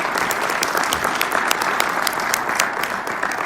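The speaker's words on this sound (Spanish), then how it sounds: "Un aplauso luego a Capitanovi" An audience at a talk gives steady, lively applause, dense overlapping claps with sharp individual hits standing out, even and fairly loud throughout.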